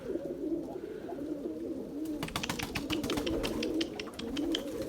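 Pigeons coo repeatedly at close range in a loft, soft rolling calls with a burst of quick flapping or pecking clicks in the middle, with no voices.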